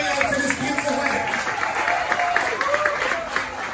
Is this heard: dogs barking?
no